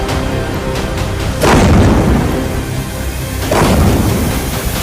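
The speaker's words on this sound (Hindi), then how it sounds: "इस मिसाइल इंपैक्ट को देखिए।" Two heavy, rumbling booms from missiles striking Haifa, Israel, during an attack, each a loud, distant blast that rolls out over several seconds against a constant roaring background, with no voices.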